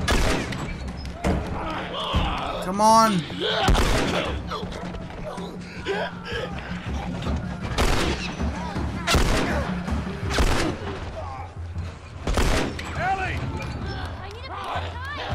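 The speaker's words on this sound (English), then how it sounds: "What other game do you know allows you to sit here and do upside down shooting?" Gunfire from The Last of Us video game, with repeated sharp shots and bursts scattered through a busy combat scene under excited talk and shouting.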